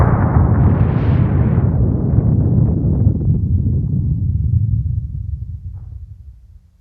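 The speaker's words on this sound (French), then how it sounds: "C'était l'explosion extrêmement violente du volcan de Santorin." A violent volcanic eruption on the Greek island of Santorini sounds as a huge, deep roaring blast that rumbles on heavily for several seconds before slowly fading away.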